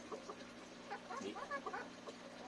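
A black Ayam Cemani chicken clucks softly in short, uneven bursts, fairly close, over a low steady background hum.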